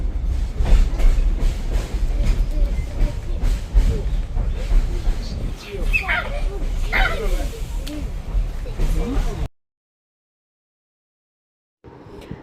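A Kuranda Scenic Railway train near Cairns, Australia, runs along the tracks with a steady, heavy rumble and rattling of carriages for several seconds before the sound cuts out abruptly.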